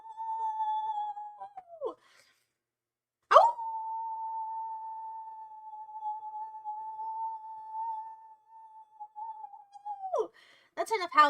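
A man imitates a wolf howl with his voice, two long sustained steady tones that bend downward at the end, loud and close, separated by a brief silence and ending in a burst of talk.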